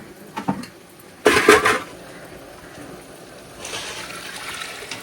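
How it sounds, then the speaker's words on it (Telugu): Water is poured into a large pot of mutton curry being cooked for a communal feast, a short splashing burst after a few metal clinks, followed by a softer trickle and bubbling. "ఇప్పుడు నేను ఇందులో వాటర్ అనేది పోసేస్తున్నాను"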